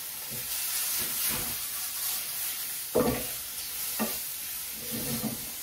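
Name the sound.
minced garlic cooking in a pan with mushrooms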